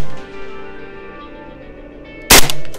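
An AR-15 rifle chambered in 5.45x39 fires a single sharp, loud, close shot that cracks out near the end, after a stretch of quieter, steady ringing tones.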